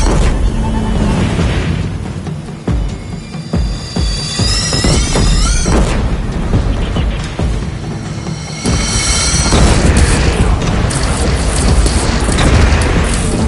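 Cannon fire in Horizon Zero Dawn Remastered: loud, dense booming blasts layered over continuous battle noise, with a crackling rumble, rising whistling tones and voices shouting over the din.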